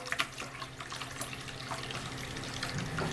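Hot water runs from a tap in a 2015 Grand Design Reflection RV fed by a Furrion tankless water heater, a close, steady splashing flow into a sink with small gurgles.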